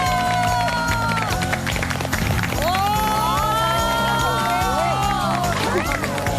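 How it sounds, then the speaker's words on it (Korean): A television studio audience on a Korean talk show applauds and cheers to welcome a guest, a dense, lively crowd noise with claps and shouts mixed under background music throughout. "박수로 맞이해 주십시오."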